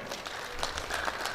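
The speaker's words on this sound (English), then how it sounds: "A round of applause for him." Audience applause at a technical conference session, a short patter of scattered clapping from a moderate crowd in a hall.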